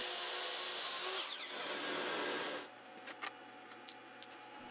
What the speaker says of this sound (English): I just needed to cut it to width over at the miter saw.